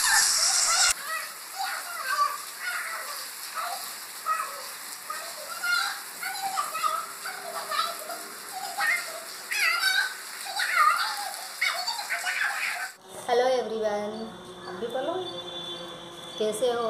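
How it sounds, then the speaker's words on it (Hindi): Rain falls steadily as a child plays and bathes in it outdoors, a continuous hiss of rain on surfaces with voices talking over it and a sudden change in the sound near the end. "हाँ पर आयुष को देखिए, कितनी मस्ती कर रहा है, नहा रहा है बारिश में।"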